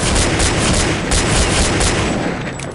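Assault rifle fire in Counter-Strike: Condition Zero Deleted Scenes, a loud, dense stream of rapid shots in a steady automatic rhythm that runs almost three seconds before easing slightly at the end, with no voices over it.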